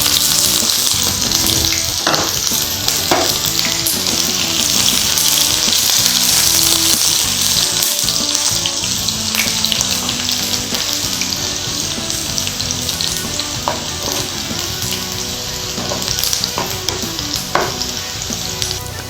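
Onions frying in hot oil and ghee for egg biryani, a loud continuous close sizzle with occasional stirring clicks and scrapes throughout, no talking.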